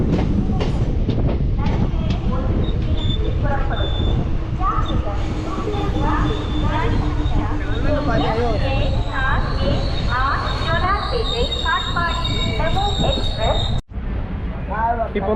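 A passenger train on the Mangalore Central to Chennai Central route running near Jolarpettai station: a continuous rumble with wheel clatter and occasional squeals, heard from inside with voices in the background.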